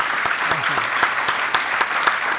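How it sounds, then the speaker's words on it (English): A conference audience at a liberty-themed event gives a round of applause, dense steady clapping with a few louder individual claps standing out and a brief voice murmuring underneath. "let's give them one more round of applause for this really,"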